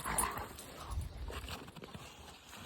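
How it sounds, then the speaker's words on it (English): Two dogs play nearby, with scuffling, panting and soft whimpers amid faint outdoor background noise. "And we got 2 dogs playing today"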